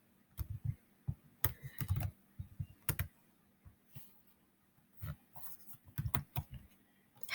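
Someone types on a computer keyboard in uneven bursts of close, crisp key clicks with short pauses between, and no talking.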